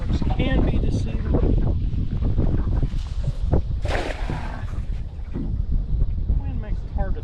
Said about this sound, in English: Wind makes it hard to throw a net worth a darn.